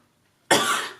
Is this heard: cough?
yes